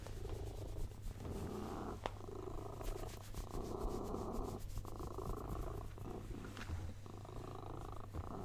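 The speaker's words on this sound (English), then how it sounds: "I hope you can still hear me okay over the cat." Cat purring on a person's lap, a close, continuous rhythmic rumble in steady pulses with brief breaks, loud against a quiet room.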